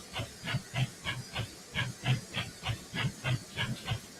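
A U3B steam locomotive in Train Sim World 2021 gives off rapid, evenly spaced hissing chuffs of steam, a steady rhythmic pulse heard close and alone.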